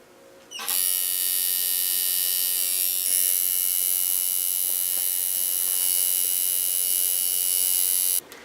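A tattoo machine with a magnum needle buzzes steadily and loudly while shading forehead wrinkles, starting abruptly, holding a constant high-pitched electric whine for about eight seconds, then cutting off.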